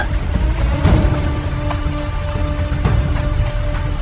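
Heavy rain pours steadily on a dark night, a dense, close hiss of drops on surfaces with faint distant rumbles, continuous and unbroken.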